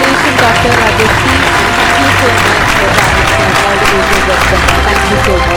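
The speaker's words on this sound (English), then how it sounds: "A big round of applause for that." Applause for an award winner at a scientists' award distribution ceremony, steady and loud throughout, with musical tones and voices mixed in beneath.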